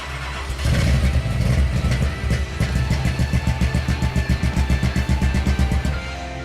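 A loud, deep muscle car engine with a very big engine revs up and then settles into a rapid, rhythmic throbbing idle, close by and dominating the scene.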